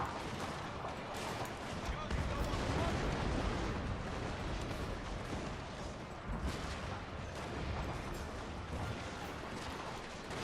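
Battle din from the Total War: Fall of the Samurai video game, with revolvers and other firearms crackling in dense, overlapping volleys amid rumbling explosions, steady and fairly loud throughout.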